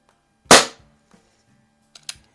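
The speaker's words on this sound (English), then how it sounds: "let's go ahead and see if the Hahn can do any better." A Hahn model 45 CO2 BB revolver fires one loud, sharp shot close by, followed after a short pause by two faint mechanical clicks.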